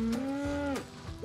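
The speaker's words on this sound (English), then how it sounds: "I built a giant milk carton house for a baby cow." A baby cow gives a single loud, close moo, a steady drawn-out bellow with a slight drop in pitch at the end and a short tail-off, heard on its own without talk.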